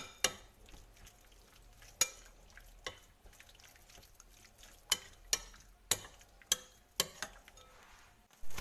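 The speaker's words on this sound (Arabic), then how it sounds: "وغادي نخلطو حتى كيندمج مزيان مع التوابل" A spoon scrapes and taps in a bowl as garlic powder and spices are stirred into olive oil, making soft wet mixing sounds broken by sharp clinks of metal on the bowl at irregular intervals.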